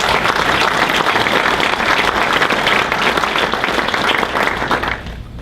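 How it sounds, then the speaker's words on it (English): An audience at a business breakfast gives a round of applause for local officials, loud, dense and sustained clapping that thins out in the final half second. "Would you please give them a nice round of applause?"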